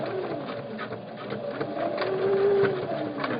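A sewing machine back stitching over elastic runs in short rapid bursts, a quiet whirring chatter up close with pauses between passes.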